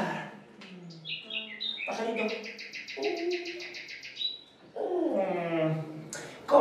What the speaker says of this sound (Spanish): Pajarito.